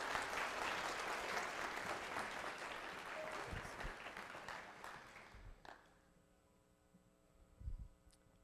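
An audience applauds to welcome speaker Aaron Baart at a Box Lunch Social, with dense sustained clapping that fades out after about five seconds, followed by a few quiet knocks in a hushed room.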